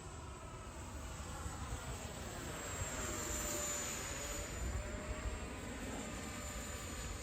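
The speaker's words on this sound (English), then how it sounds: "Such a sweet flying plane." A steady high-pitched jet whine from a 3D-printed Viggen model jet with active canards, continuous and fairly constant in level, with a faint shift in pitch as it passes overhead.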